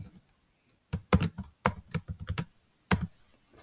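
Typing on a computer keyboard while entering a formula in a spreadsheet: irregular bursts of close, crisp key clicks separated by short pauses.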